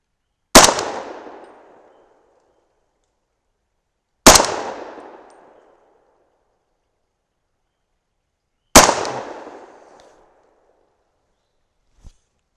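Three loud, sharp gunshots from a 300 Blackout rifle firing 202-grain subsonic powder-coated bullets, spaced about four seconds apart, each with a decaying echo, followed by a faint click at the end.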